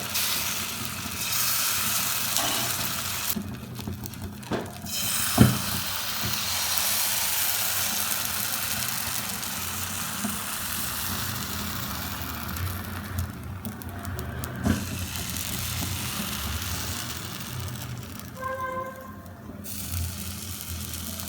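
A spoonful of rice flour batter for soft pitha sizzles steadily in a hot pan, a continuous close hiss broken by a few faint clinks, with no one speaking.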